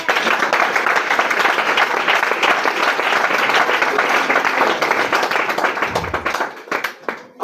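A church congregation at a Pentecost seminar bursts into loud, sustained applause and clapping that fills the room, holding steady before tapering off and fading near the end.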